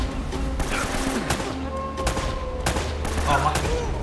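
Gunfire in the action video game Uncharted: a rapid fusillade of shots and impacts crackles through a busy in-game mix, loud and close across the whole stretch.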